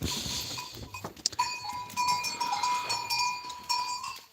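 A goat bleats nearby, one apparently giving birth, over a steady background of clinking cowbells and other livestock.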